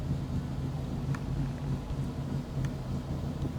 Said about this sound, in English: revving their car engine over there